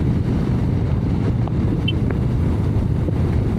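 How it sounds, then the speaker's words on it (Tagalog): Steady, heavy wind roar buffeting the microphone on a Guerilla 450 motorcycle ride, a constant low rumble with no voices. "Oo, ang lakas ng hangin guys."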